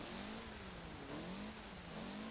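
1988 Mitsubishi Starion ESI-R accelerating at Laguna Seca in Forza Motorsport 7, the engine note rising through gears in a steady, close, loud drone with a brief pitch drop at a shift and no talk.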